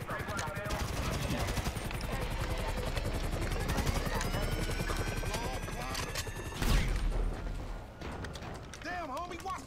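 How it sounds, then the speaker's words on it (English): Helicopter in the video game GTA 5 thundering close by with steady rotor chop, mixed with bursts of gunfire and shouting voices in a first-person combat scene. "There's another chopper."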